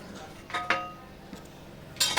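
Wheat flour dough being stirred by hand in a mixer jar, with a few light clinks and scrapes of a utensil against the jar, close by in a quiet room.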